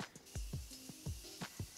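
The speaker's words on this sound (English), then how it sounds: "I'm going to use my Morphe setting spray this time, just to kind of mesh all the powders and everything together." Morphe setting spray misted over a made-up face: a handful of short, soft spritzes in an uneven rhythm, close and fairly quiet, with no talking.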